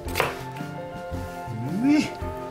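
Knife chopping onion on a cutting board while making homemade pizza, a few brief chops heard under background music with a voice joining in.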